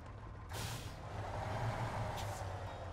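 Heavy truck in SnowRunner releasing its air brakes with a sharp hissing burst, then a shorter second puff, over a low steady engine idle.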